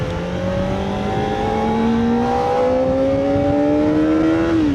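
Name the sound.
car accelerating in second gear on Hakone Skyline road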